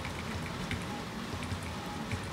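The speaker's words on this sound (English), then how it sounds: "it's raining tonight like crazy." Heavy rain in a video game, a steady dense hiss of falling drops with faint scattered patter, continuous and even with no voices.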